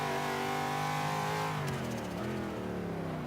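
A Corvette Z06 engine in Forza 5 revs hard and steady with its tires broken loose in wheelspin. The harmonic engine note stays loud and close, dips slightly, then climbs again.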